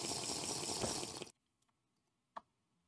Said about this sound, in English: Potion of night vision.